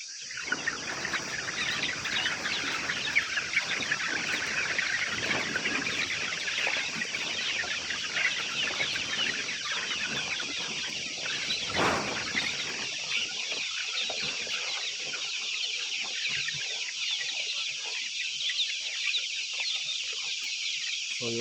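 A large flock of farm chickens being let out of their coop at six in the morning clucks and squawks continuously, with a rooster among them and occasional sharper calls.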